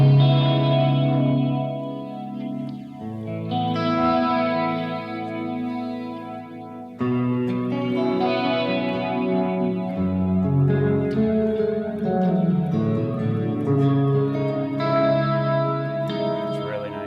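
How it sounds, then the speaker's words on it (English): An electric guitar played through an H90 pedal on an expensive pedalboard, its chords and notes washed in shimmering chorus and a big reverb tail. It is loud, sustained and continuous, with no voices. "let's see, reverb here."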